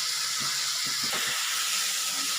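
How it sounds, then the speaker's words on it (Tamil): Tomato chutney ingredients sauté in a pan on the stove with a steady, close sizzling hiss, while a few soft low knocks and stirring sounds come through underneath. "அவ்வளோதான் வதங்கட்டங்க கொஞ்சம்"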